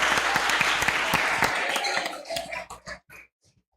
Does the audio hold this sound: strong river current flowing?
no